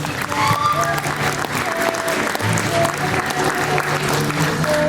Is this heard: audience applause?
yes